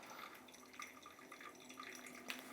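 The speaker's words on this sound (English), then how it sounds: "I'm still trying to do a bit of a spiral pattern here when I pour" Water pours steadily over ground coffee in a V60 dripper, giving a soft continuous trickle with light dripping and splashing close by, with no talk.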